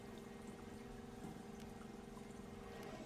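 Water being filtered in the survival game Icarus, a steady low pouring and trickling wash with a faint hum, continuous and even throughout with no voices.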